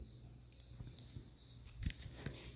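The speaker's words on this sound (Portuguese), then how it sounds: "tive que dar uma pausa, um grilo de merda cantando" Cricket chirping indoors, a faint, steady high-pitched trill running continuously beneath scattered soft knocks and rustles, with no speech.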